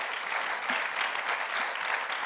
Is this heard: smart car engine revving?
no